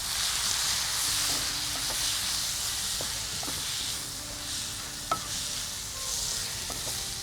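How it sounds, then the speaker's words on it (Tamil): Tomato masala with chili and coriander powder sautés in a pan, giving a soft steady hiss and sizzle with occasional light utensil taps, fairly faint and without speech. "ஸோ தக்காளி கரைஞ்சி நல்லா வதங்கும்."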